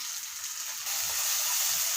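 Tomato masala frying in oil, a continuous bright sizzle that rises a little in loudness partway through, close and steady with faint stirring underneath.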